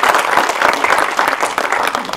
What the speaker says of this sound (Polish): Więc wielkie brawo, mocno.